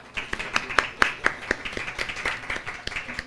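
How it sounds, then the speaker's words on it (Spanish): Scattered claps from a small audience at a Spanish-language science talk on nature's attacks and defenses, a few dozen sharp irregular hits, moderately close and fairly quiet, with no talking over them. "Un aplauso para Amanda."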